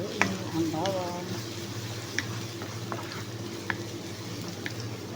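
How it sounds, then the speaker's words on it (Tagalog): Garlic frying in a pan while being stirred, a steady soft sizzle with faint scraping and small clicks of the spoon, close and moderately quiet throughout, with a voice talking over it. "lagay natin ang bawang. Haluin lamang po natin."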